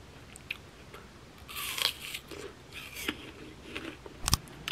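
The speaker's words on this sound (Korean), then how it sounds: "이 사과 씹는 소리에 엄청 소름 끼쳐 하시는 분들이" Someone bites into and chews a crunchy apple up close, giving several quiet, crisp crunches at irregular intervals with a sharp loud bite near the end.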